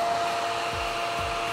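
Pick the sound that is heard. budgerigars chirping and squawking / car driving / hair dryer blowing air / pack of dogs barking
hair dryer blowing air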